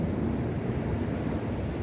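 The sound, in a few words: sea waves breaking on the beach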